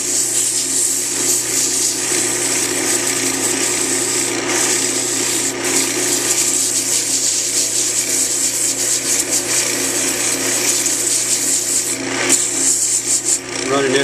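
A cork spins on a lathe at about 1600–1700 RPM while sandpaper shapes it, giving a steady, loud rubbing rasp over the lathe's constant hum throughout.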